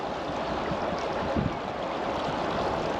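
Swift river current rushing past a riverbank in Talkeetna, a dense, continuous broadband roar of moving water with a slight swell near the middle.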